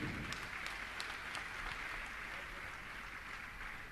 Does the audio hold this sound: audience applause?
yes